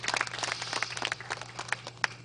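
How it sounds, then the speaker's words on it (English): Round of applause from a crowd at a political street rally, faint and distant, a steady patter of many hands clapping with a low hum beneath. "Give them a round of applause for me"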